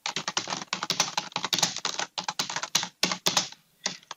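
Rapid typing on a computer keyboard while working in an Excel spreadsheet, a close, steady run of crisp key clicks in quick bursts with brief pauses, ending in a few last strokes, with no talk.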